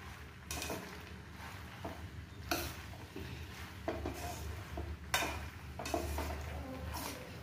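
Macaroni is stirred in a pan: a spoon scrapes and clacks against the metal in irregular, close strokes over a faint sizzling background.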